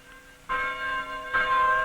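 Church chimes ring out in two clear strikes, each leaving a bright, sustained tone with rich overtones that lingers and overlaps, fairly loud and close.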